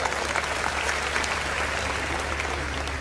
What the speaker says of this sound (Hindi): तालियां कमजोर दिए।